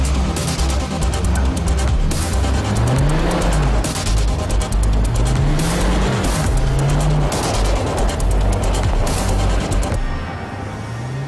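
A 2013 Audi A1 quattro with a turbocharged engine and six-speed manual drives hard through snow. The engine revs rise and fall across several gear changes, loud and close, with steady road and tire noise throughout.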